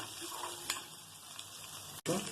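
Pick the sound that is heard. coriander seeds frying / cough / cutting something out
coriander seeds frying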